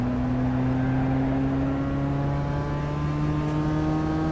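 A race car engine in the Assetto Corsa or iRacing sim racing game holds a loud, steady drone whose pitch climbs slowly as it revs. No voices are present, and no clear gear change stands out.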